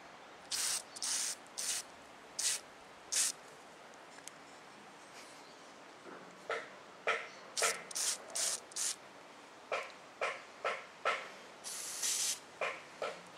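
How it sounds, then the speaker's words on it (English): An aerosol spray paint can, held upside down to clear its nozzle, gives a series of short, sharp hissing bursts, some alone and some in quick clusters, fairly close with quiet gaps between. "Tip it upside down to clear the nozzle out."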